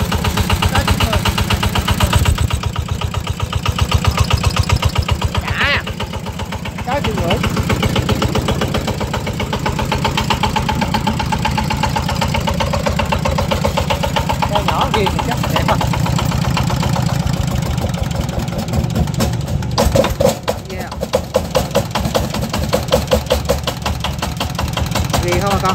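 A used Japanese Yanmar SS90 small diesel engine, sold for pumping water and powering boats, idles steadily with a loud, even knocking chug throughout while people talk nearby.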